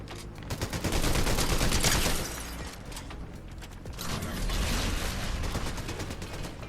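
Rapid bursts of automatic gunfire crackle in a Fortnite zero-build match, loud and dense in two sustained volleys separated by a brief lull.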